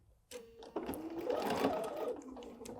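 Sewing machine stitching fabric for a pillow wrap, a close, fast mechanical whirring that starts abruptly, runs steadily for a couple of seconds, then slows near the end.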